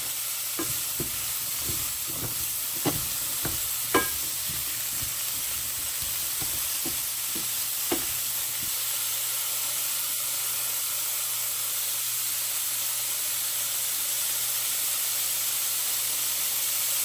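Broccoli and carrots stir-fried with noodle seasoning, a steady sizzle and hiss under repeated scraping stir strokes in the first half, then a continuous even frying hiss with no voices.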